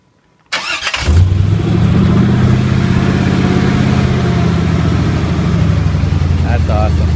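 A car engine cranks and catches after a brief quiet moment, then roars loud and steady at close range for the rest of the clip with a deep, rough running tone.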